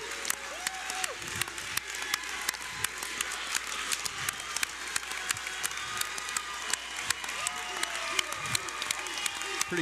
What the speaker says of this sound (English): coming out and giving him a round of applause